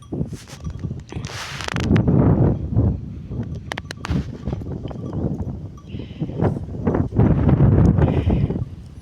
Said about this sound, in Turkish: Rüzgar buz kafa esiyor ha.